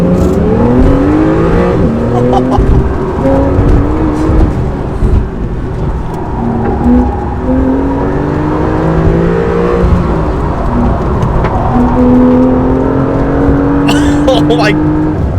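A Porsche on a race track braking and then accelerating out of a corner, the engine note climbing loud and close inside the cabin as a driver talks throughout.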